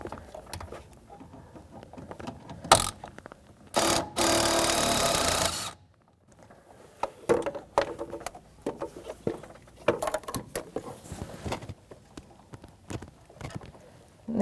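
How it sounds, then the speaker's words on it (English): A 12mm socket on a ratchet works a pinch bolt out of the steering rack on a 1992-1996 Toyota Camry, giving rapid close ratcheting clicks in bursts, a louder sustained buzz of turning, then scattered metallic taps and clinks. "I'm going to use a socket and take that pinch bolt right out so we can really access and get this"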